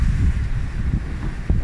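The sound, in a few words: water splashing on a sailboat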